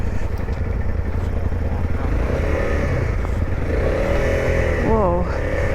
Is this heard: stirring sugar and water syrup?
no